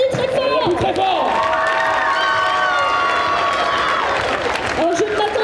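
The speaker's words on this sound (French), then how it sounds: "On les applaudit très fort" An audience at a cosplay parade at a geek convention in Angers applauds and cheers loudly, a dense sustained roar of clapping with shouts and whoops, one voice rising over the crowd.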